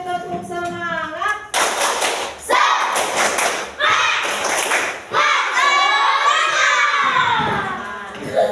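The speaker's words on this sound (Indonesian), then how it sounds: "Satu kali tepuk semangat." A classroom of children doing a single spirit clap, loud bursts of clapping and shouting voices mixed with a teacher's talk and chanting.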